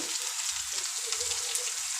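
Ridge gourd pieces sizzle and fry in a hot oil tempering, a steady close crackle with faint stirring underneath and no voices.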